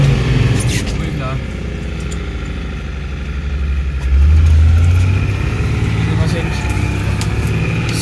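A 1982 Nissan Patrol with the SD33T turbo diesel drives along, its engine a steady low drone that swells louder about halfway through, close and continuous, with wind rushing around it.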